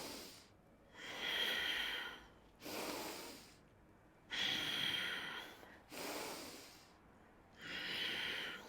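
A yoga instructor breathes deeply in and out through the nose, five or so slow, audible airy breaths alternating with short pauses, close and fairly quiet with no speech.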